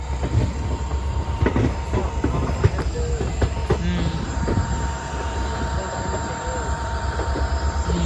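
A train rumbles past close by, a steady heavy roll with clanks and rattles over continuous low noise.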